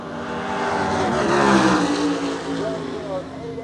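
Drag race cars accelerate at a drag strip, a loud engine roar swelling to a peak midway and then fading, as if passing close by, with outdoor crowd noise around it.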